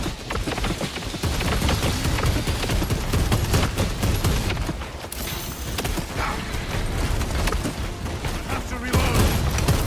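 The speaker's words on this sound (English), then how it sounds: "Need to reload." Heavy, dense gunfire from Warhammer 40,000: Space Marine 2 roars almost without a break, with mechanical reloading clanks mixed into the loud combat din and a brief lull near the end.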